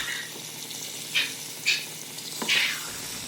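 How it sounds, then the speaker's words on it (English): Chicken seasoned with a generous sprinkling of salt sears in a pan after being flipped, a low steady sizzle broken by three short bursts of louder spitting hiss, close and with no talking. "it's time to now flip it and allow the side which has that generous sprinkling of salt to actually get a perfect golden sear"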